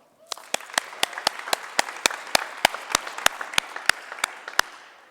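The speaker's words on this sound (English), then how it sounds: "I want to have a super loud round of applause for Mascoma Bank" Loud audience applause at a rural entrepreneurship pitch competition, a steady dense wash of clapping with sharp individual claps standing out, lasting the full five seconds before tapering at the end.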